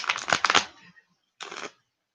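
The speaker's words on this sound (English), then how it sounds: "the last shuffle was like" A deck of playing cards is shuffled for cartomancy in two short bursts of riffling, close and fairly quiet, with a pause of silence between them.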